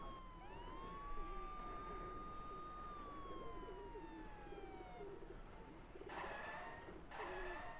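A police car siren wails and fades into the distance in the Spider-Man 2 video game, its long sweeping tone quiet, with cooing pigeons and other city ambience underneath.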